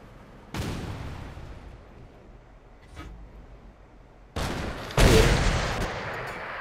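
Tank cannon shots in World of Tanks: a sharp blast early, a fainter distant boom midway, then two loud close shots in quick succession, each trailing into a rumbling decay.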